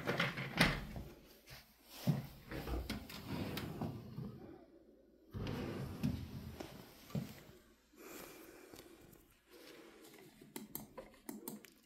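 Drawers in a themed rental bedroom are slid open and shut several times, with wooden knocks, scrapes and clunks arriving irregularly at close range, along with some handling noise.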